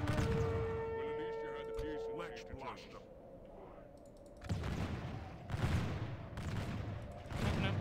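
Musket volleys crackle in a Call of Warhammer dwarf campaign battle, several loud bursts of massed gunfire rising from a continuous din of battle noise, with someone talking over the first part.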